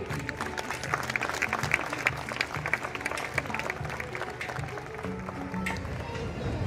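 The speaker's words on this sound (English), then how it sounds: "the least we can do is encourage them with our thunderous claps." Thunderous applause from a large audience at a live school event, dense sustained clapping filling the whole stretch with a steady roar of many hands and faint crowd murmur underneath.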